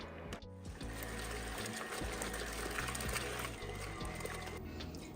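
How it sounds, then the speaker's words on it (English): An electric mixer beats cream into butter on a low speed while buttermilk sloshes, giving a steady close motor whir with rhythmic churning and a brief dip near the start. "I am going to let this beat for about a minute or two on a lower speed, just so all the butter will start to clump together"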